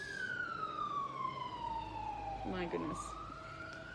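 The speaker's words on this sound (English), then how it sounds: "that siren going past" An emergency vehicle siren passing along a main road, one long wail sweeping down then rising again, moderately distant over steady traffic noise, with a brief spoken exclamation partway through.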